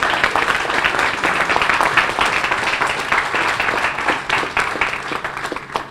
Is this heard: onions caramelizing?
no